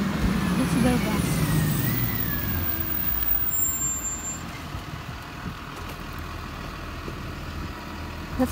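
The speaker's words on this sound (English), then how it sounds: "I see there's a bus coming." A school bus pulls up and comes to a stop, its engine rumbling and air brakes hissing nearby, while someone talks over the vehicle noise.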